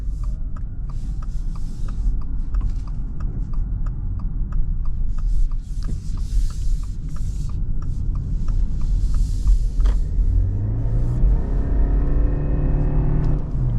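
A 2026 Subaru Forester Hybrid accelerates from inside the cabin, a steady low drone of road and powertrain noise that climbs into a rising engine tone in the last few seconds, with faint ticking throughout.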